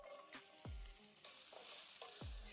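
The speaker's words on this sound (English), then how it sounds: "I'm gonna start with my onions first." Onions hitting a pan of oil heated to its smoke point give a steady close sizzle, broken by a few sharp scraping thuds as they are pushed around, with no voices.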